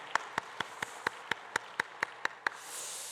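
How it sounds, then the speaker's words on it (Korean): A church congregation at a Korean Sunday worship service claps together to welcome a visiting couple: about a dozen evenly spaced claps in a steady rhythm, faint and distant, fading into soft hiss. "박수로 한번 환영해 드릴까요?"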